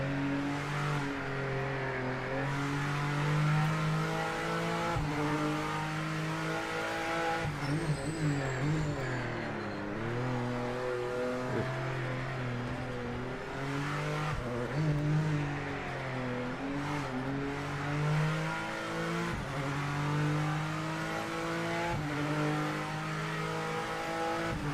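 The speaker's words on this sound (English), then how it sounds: "BMW sounds nice." A BMW race car engine roars through gear changes in Le Mans Ultimate during an ELMS round, loud sustained revving rising and dropping between shifts, with occasional tire noise.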